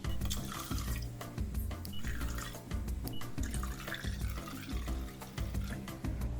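Roughly 1,300 grams of water pours into a Thermomix mixing bowl in a loud, continuous splashing stream that runs unbroken from start to finish, up close and with no voices.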